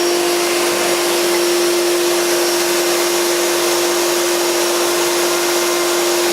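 A router table cuts wood, giving a loud, steady high-pitched whine with a constant tone that stays unbroken throughout.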